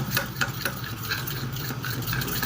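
Batter for layered, flaky homemade khaja is worked by hand to a medium consistency, neither thick nor thin, giving soft, wet, rhythmic squelching strokes up close and fairly quiet, with no talking.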